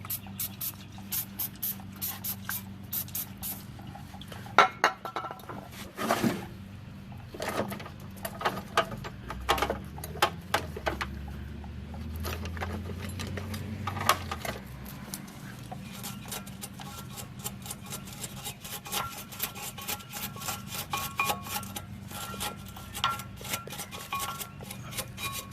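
A wire brush scrubs rust and grease off brake parts of a 2003 Mercedes C230K, giving close, scratchy bursts of scraping and ticking with short pauses and a low hum underneath.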